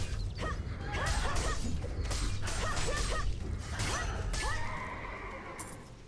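Several horses neigh and whinny in overlapping bursts in the video game ArcheAge, with clattering and creaking mechanical sounds underneath, fairly loud and busy.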